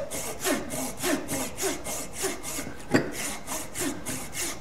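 A hacksaw cuts by hand through a nut clamped in a vise, the sawing strokes steady and rhythmic at about three per second. The rasping is close and clear, with no talk.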